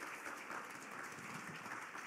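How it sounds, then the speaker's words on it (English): Faint, steady audience applause at a town hall forum for emergency preparedness, continuous clapping with no voices over it. "How about a nice hand for"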